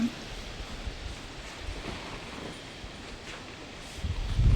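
Strong wind at five in the morning at a hillside farm stay blows as a steady rushing rustle, swelling into louder gusts at the end.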